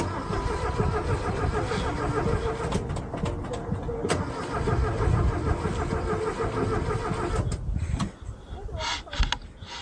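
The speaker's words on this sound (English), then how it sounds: "Now the car won't start, huh?" A 1971 VW Beetle with a rebuilt engine cranking repeatedly without catching, a loud churning starter-and-engine rumble that cuts off near the end, followed by a few scattered clatters.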